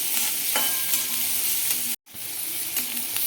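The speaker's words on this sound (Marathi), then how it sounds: "अगदी दोन ते तीन मिनटामध्ये आपला कांदा छानपैकी तेलामध्ये फ्राय होईल" Onion sautéing in oil with cumin, mustard seeds, turmeric and salt, a continuous close sizzle with spatula scrapes, cut by a brief moment of silence partway through.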